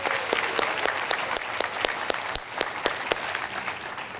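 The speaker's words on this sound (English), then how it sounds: "Let's give them a round of applause." An audience applauds at an alumni distinguished service award ceremony, with steady clapping that carries sharp, individual claps standing out near the microphone throughout.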